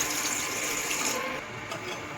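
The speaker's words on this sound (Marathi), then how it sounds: "यात थोडंसं पाणी टाकूया खाली." Water pours steadily into the base of a steel idli steamer that holds 15 idlis, a continuous close splashing stream that eases slightly near the end, with no talk.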